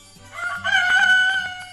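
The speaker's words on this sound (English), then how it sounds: "H for hen" A rooster gives one clear, close crow that rises and holds for about a second against a quiet background.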